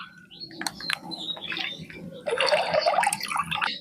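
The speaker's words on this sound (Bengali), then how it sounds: "দুধটাকে কড়ার মধ্যে ঢেলে দেব" Milk poured into a kadai for making rasogolla, a close splashing, gurgling stream with drips that swells into a fuller pour in the second half.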